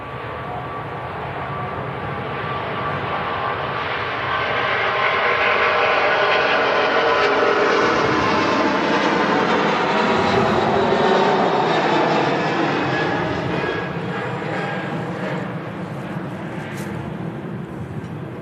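An Emirates Airbus A380 takes off at Manchester Airport, a loud broad jet roar that builds, peaks in the middle and then slowly fades as the aircraft climbs away, heard from a distance with no talking.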